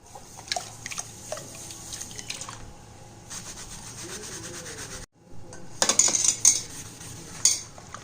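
Burnt milk pan being scrubbed with a scrubber, metal scraping and rubbing in bursts with dish clatter and a pause midway, fairly quiet and close, no talk.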